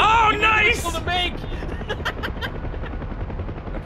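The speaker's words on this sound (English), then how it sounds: "Helicopters." A helicopter in a combat flight game, whose steady rotor chop and rumble sits under excited talk, with a rhythmic thumping pulse that grows clearer once the voices fade.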